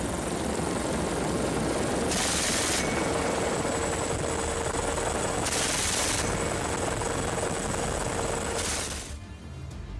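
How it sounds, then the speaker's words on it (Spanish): A Lynx helicopter fires bursts from its 20 mm cannon at sea during an engagement against pirates, three short loud bursts rising over constant loud rotor and engine roar. "La ráfaga de cartuchos calibre 20 es imponente."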